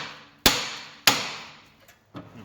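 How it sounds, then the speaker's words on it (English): Two sharp metallic hammer strikes on a steering rack bolt of an Alfa Romeo 159/Brera ring out close by, each decaying slowly, followed by a fainter third tap. "Now a good sharp tap with a hammer should get them loose."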